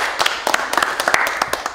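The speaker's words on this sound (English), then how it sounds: "Clap it up." A small group of people claps indoors for a couple of seconds, an uneven burst of sharp close hand claps, with a voice briefly mixed in.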